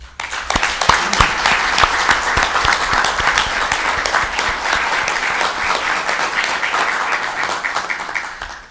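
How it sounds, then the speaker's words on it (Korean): Sustained applause from Blue House staff at a year-end senior secretaries' meeting, steady and dense clapping from a room of people, loud throughout and fading at the very end. "서로서로에게 고생했다, 더 잘하자 라는 의미로 격려의 박수를 쳐줍시다"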